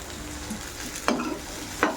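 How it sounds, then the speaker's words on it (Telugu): Bitter gourd (kakarakaya) fries with onions in a pan under a low, steady sizzle, broken by two quick stirring scrapes close by. "ఆనియన్ కొంచెం మగ్గిన తర్వాత కాకరకాయలు వేసుకుందాం."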